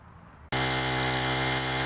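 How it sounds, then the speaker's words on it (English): A water pump starts abruptly and runs loudly, drawing floodwater off rain-soaked ball fields, a steady dense mechanical drone with a constant hum after a brief quieter moment. "That's the sound of water being pumped out from the ball fields."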